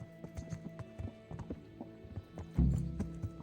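Horse hooves clip-clopping in the medieval game Kingdom Come Deliverance, a quick steady patter of steps with a louder thud and snort-like burst near the end.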